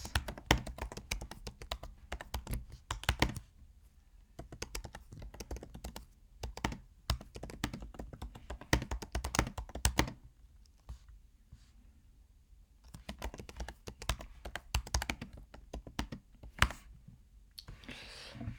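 Keys clatter on a computer keyboard during a C++ programming lesson on variables, in quick close bursts of clicks broken by short pauses, steady and moderately quiet with no talking.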